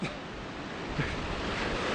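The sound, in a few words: ocean waves breaking on the shore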